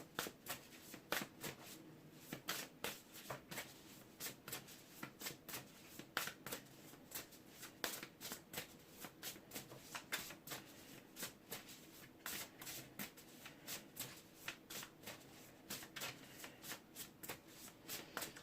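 Tarot cards being shuffled by hand, a steady run of quick riffling flutters and slaps repeating for several seconds, close and fairly quiet, with no talking.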